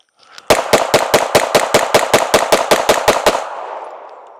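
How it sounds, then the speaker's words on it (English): Competition Glock 45 pistol fired rapidly through a full magazine at an outdoor range, about fourteen loud, close, evenly spaced shots followed by a short decaying echo, with no talking. "Do a quick mag dump on that."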